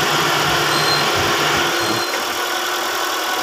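A Honda Fit engine idles after an engine mount replacement, a loud, steady, close mechanical drone with a smooth even rumble and no talking.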